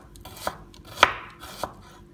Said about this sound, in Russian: Итак, нарезаем мелко-мелко лук.